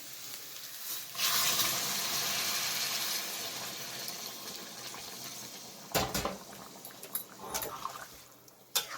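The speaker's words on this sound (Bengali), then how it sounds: "এবার আমি গরম জলটা এখানে বসে রেখেছিলাম, গরম জলটা দিয়ে দিচ্ছি।" Hot water poured into a simmering rohu fish curry in a pan, producing a soft, steady rush and sizzle that fades, followed by a few scattered clinks and stirring sounds, fairly faint.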